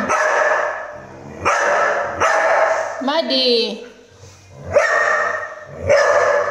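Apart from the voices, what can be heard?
dog Milky barking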